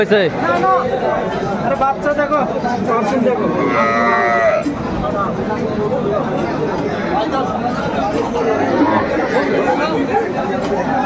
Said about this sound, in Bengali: চমৎকার গাভী বাচ্চারা আমরা দেখছিলাম খুব সুন্দর মানের